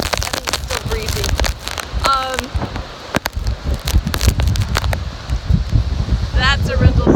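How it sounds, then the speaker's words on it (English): Gusty wind during Hurricane Florence rumbles and buffets the microphone outdoors on a street, with patters like rain or debris and a person speaking briefly over it. "I think it's still breezy."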